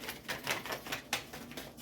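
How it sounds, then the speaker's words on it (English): Rapid papery riffling in quick bursts, cards flicking against each other at close range with no talking. "Two more shuffles and I'll pull from the top."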